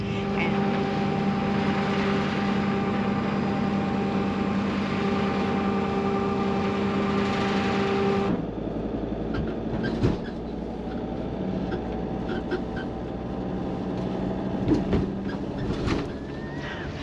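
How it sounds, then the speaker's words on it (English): Low steady engine drone aboard a big ferry boat in a dark space, humming evenly for several seconds, then giving way to quieter rumble with scattered clanks and knocks. "Oh, I hear a big ferry boat."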